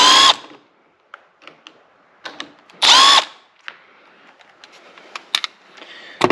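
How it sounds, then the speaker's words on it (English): Two loud, short bursts of an impact driver with a Phillips bit backing a screw out of a 2017-2023 Honda Ridgeline door panel, separated by quiet gaps with light clicks and handling taps close by. "we already have our Phillips screwdriver on our impact. We need to take this screw out."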